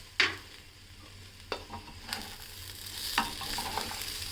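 Khichuri of parboiled rice with three kinds of dal, vegetables, tomato and green peas is stir-fried in a pan. A steady sizzle runs throughout, broken by four distinct spatula scrapes and knocks, with no talking.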